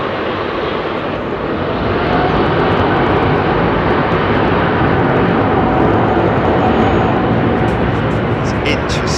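A loud, steady roar of a heavy jet departing runway 27R at London Heathrow Airport fills the whole stretch without letting up, with faint voices underneath.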